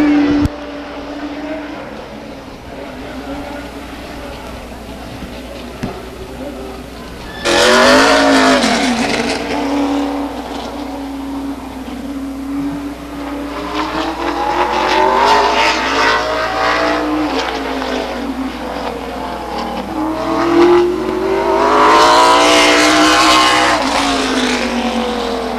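Race cars lap the Stockton 99 Speedway oval at an SRL event, engines droning loudly and continuously, swelling and rising in pitch as cars pass close, with a sharp surge partway through and sustained roar throughout.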